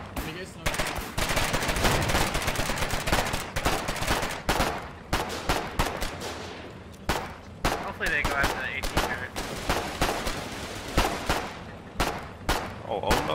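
A heavy machine gun turret on a Colonial HMG APC in the video game Foxhole fires in rapid bursts, loud and close, with short pauses between volleys and voices talking under the gunfire.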